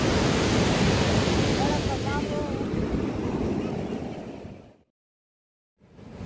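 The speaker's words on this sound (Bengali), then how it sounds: "আজকে আমি এখন দাঁড়িয়ে আছি পুরী সমুদ্র সৈকতে, আর দেখতেই পাচ্ছ ঢেউগুলো কিন্তু অনেক বড় বড়" Big sea waves roll and break on Puri beach, a loud continuous roar of surf with wind buffeting the microphone, then a sudden cut to near silence before the roar returns.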